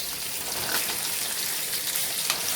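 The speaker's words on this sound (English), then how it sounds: "now we're going to sear that" Pork chops sear in a hot pan, giving a steady, close, bright sizzle with faint crackles throughout and no talking.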